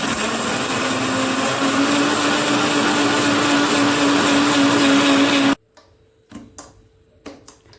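A mixer grinder whirs loudly and steadily for several seconds, then cuts off abruptly, followed by a few faint clicks and knocks.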